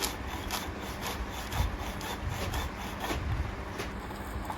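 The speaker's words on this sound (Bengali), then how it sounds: "এবার রসুনগুলো পিষে নিয়ে একসাথে সবগুলো উপাদান ভালোভাবে মিশিয়ে নিব" Garlic being ground on a traditional grinding stone for a fenugreek mash, a continuous rhythmic rough scraping and rubbing of stone on stone, close and steady, no talking.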